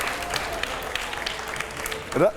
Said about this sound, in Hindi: आइए जरा जोरदार तालियां हो।